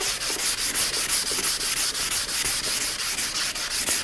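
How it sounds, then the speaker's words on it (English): Hand-sanding a car headlight lens with 600-grit sandpaper: a close, bright rasping scrub repeating in quick, even back-and-forth strokes, roughly four per second, with no talk. "So now we're going to step up sandpaper to get rid of the scratches. So we'll go from 400 to"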